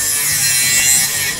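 An angle grinder cuts a notch into the corner of steel pieces in a small workshop, a steady loud harsh grinding hiss that runs continuously for the whole moment.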